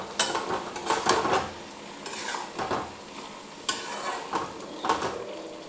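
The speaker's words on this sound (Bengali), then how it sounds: "একবার ঢাকাটা খুলে একবার নেড়ে নিতে হবে।" Cauliflower stalk curry is stirred in a pot, giving several separate bursts of scraping and wet shuffling with a soft sizzle between them, close and moderately loud, with no talking.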